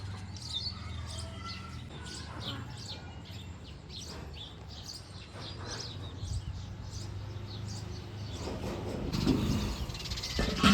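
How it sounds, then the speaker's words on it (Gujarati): Doves and a squirrel feeding on scattered grain in a residential neighborhood outdoors, with light bird chirps and coos heard faintly over steady low background hum throughout. "ખીચકોલી અને શું કહેવાય હોલી બે આવ્યા ખાવા ચણ ખાવા"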